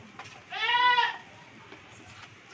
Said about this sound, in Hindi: ये तीन नंबर बकरी आ रही है